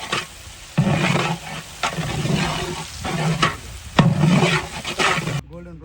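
Green chilies and onions fry in a large pot at an outdoor village cooking of a 15 kg chicken biryani, with loud surging sizzle and repeated heavy stirring sweeps in uneven bursts, ending abruptly.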